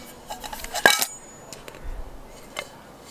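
A metal camping frying pan from a bushcraft cook set is handled, giving a sharp metallic clink near the start followed by a few faint light knocks and taps in quiet surroundings.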